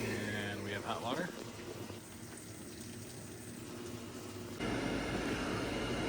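Hot water runs from a freshly restarted gas water heater in a frozen Michigan home, a steady close hiss of flowing water that dips in the middle and swells louder again toward the end.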